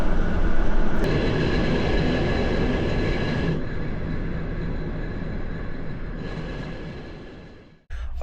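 A Soviet-era passenger train rolls across the Kazakh steppe between Aktau and Aktobe, its loud, steady rumble and rattling wheels continuous throughout, with a brief drop-off near the end before the noise returns.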